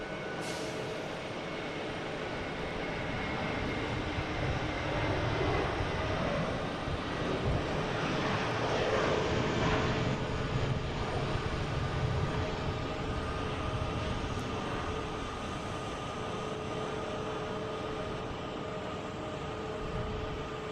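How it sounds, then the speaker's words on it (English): A JetBlue Airbus A321 jet takes off at Boston Logan, a steady broadband engine roar with tonal whine holding throughout, swelling slightly in the middle, heard alone outdoors. "next taking off the JetBlue heading to Sarasota. Flight 2041 and A321"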